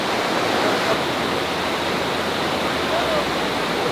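A mountain valley stream at a summer campsite rushes past in a steady, dense, close-up wash of flowing water that stays constant throughout.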